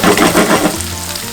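Onion and garlic fry in a pan in a hotel kitchen at Park Hyatt Hyderabad, a loud, close sizzle with rhythmic stirring bursts that ease off toward the end, no talking.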